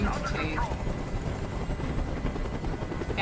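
A helicopter in the video game Detroit: Become Human thrums loudly and steadily throughout, a dense close rotor roar with a brief voice heard over it near the start.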